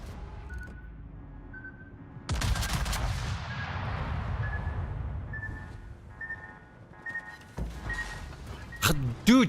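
Rapid bursts of gunfire in a video game, shooting at an enemy cruiser, begin sharply and continue loudly for several seconds, easing off and then returning in fresh bursts near the end, with some talk in between.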